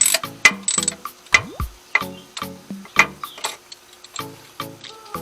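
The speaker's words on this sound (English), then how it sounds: "I'm having to put the nut back on so that I can get the wrench off" A socket wrench ratcheting on a starter nut gives a series of crisp, close metallic clicks in a steady rhythm of about ten short strokes.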